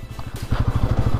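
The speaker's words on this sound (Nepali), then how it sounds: "फुल जोसका साथ बाइक चलाउनु होला यहाँ" A motorcycle ridden over a rough rural road near Kalabang, Pokhara, with a loud, close engine putting out a rapid, pulsing thump and some rattling over a short stretch.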